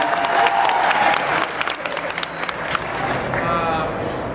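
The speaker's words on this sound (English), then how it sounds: "Clap for John McClane." Audience members at a fan convention panel clap loudly in a dense burst, with a few scattered cheers mixed into the short round of applause.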